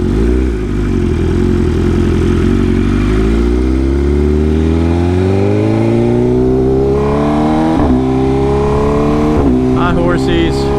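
A 2025 BMW S1000RR sport bike's engine drones loud and close while riding, its pitch climbing steadily through gear, dipping at shifts, then rising again, with wind rush over the top.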